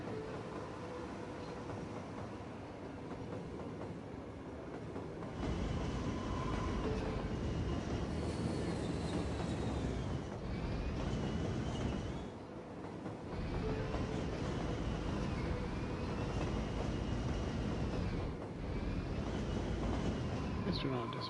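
Trains rumble and clatter continuously through a Cities Skylines 7 city, with steady rail noise, repeated wheel squeals and brief dips as cars pass, loud and close throughout.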